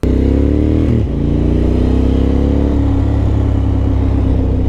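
A motorcycle rides along a street with a loud, steady engine drone up close, briefly shifting pitch as it changes gear, then rising again as it pulls on under constant wind rumble.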